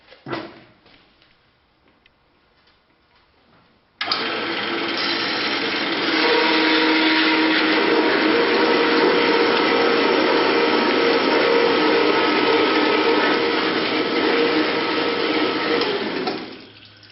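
A power tool cuts a steel piece clamped vertically in a drill press vise for forging a cross, starting abruptly after a quiet moment and running as a steady, loud, harsh whir until winding down.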